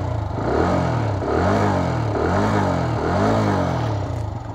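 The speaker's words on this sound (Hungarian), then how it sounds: "ez egy 125-ös Keyway, ez egy kis motornak felel meg" A 125cc Keeway motorcycle engine revs up and down several times close by, its buzzing pitch rising and falling in repeated swells.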